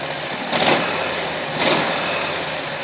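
A Predator 670cc small engine runs steadily at close range, giving two brief rising surges as it is gently spooled up and then eases back, with no talking.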